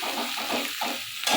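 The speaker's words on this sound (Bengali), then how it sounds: "দিয়ে একটু ভালো করে কষিয়ে নিই।" Rui fish and spices sauté in a pan for a Bengali fish curry, giving a steady, close, crackling sizzle with a rise in hiss at the end and no voices.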